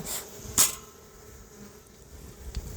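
Agitated honeybees buzz around an opened homestead hive, a soft, faint hum broken by a few brief, louder passes of individual bees flying close.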